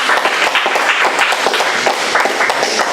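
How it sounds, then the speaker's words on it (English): Audience applause for newly installed officers at a Toastmasters inauguration meeting, a dense steady burst of many hands clapping throughout, fairly loud and close. "let's give these officers another round of applause for their picture"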